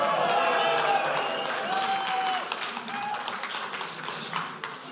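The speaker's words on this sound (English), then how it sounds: "Oh, you're still clapping." Conference audience applauding a talk, a dense, sustained wash of clapping from a large crowd that stays loud throughout, with a few voices calling out over it.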